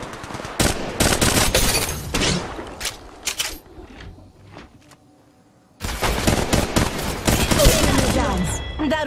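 Gunfire in the Apex Legends Mobile battle royale game, with loud rapid bursts and single cracks up close. A quieter lull follows, then heavy shooting resumes, with a brief game voice line in between.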